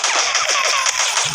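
Rapid automatic gunfire in an action video game, a dense continuous burst of shots, loud and close throughout with no pause.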